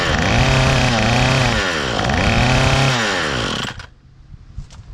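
An old weed eater with a worn carburetor runs loud and close, its two-stroke engine revving up and down in rising and falling surges before cutting off abruptly, leaving quieter clicks and rustles.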